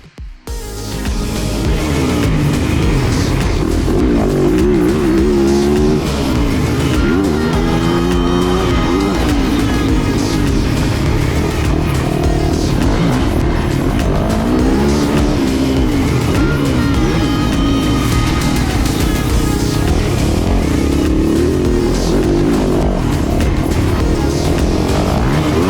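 A 2022 Fantic XEF 450 enduro motorcycle ridden around a motocross track, its single-cylinder engine loud and close throughout, revving hard, rising and falling with throttle changes over jumps.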